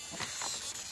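A dense, droning buzz of bees inside a hive in winter, wavering pitch, steady and close, like many bees humming together without any talk.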